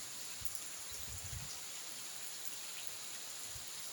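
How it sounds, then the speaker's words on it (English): Steady rain falls outdoors in Sri Lanka, a soft, even hiss with a few heavier patters up close, heard alone. "now it is raining, but also sun is shining"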